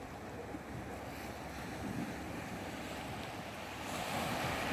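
Ocean surf rolls in at Takapuna beach beside a campground, a steady broadband wash of waves mixed with wind buffeting the microphone, faint and continuous with no voices.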